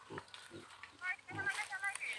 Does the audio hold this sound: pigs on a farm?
yes